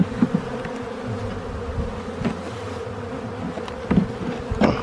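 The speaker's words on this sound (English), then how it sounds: "Lots of bees and no queen." Honeybees in a queenless colony buzz in and around a hive box, a continuous close hum with a few louder passes of single bees.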